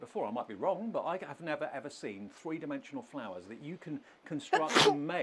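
A single sharp sneeze bursts out near the end of continuous close-up speech, loud and abrupt against the steady talking.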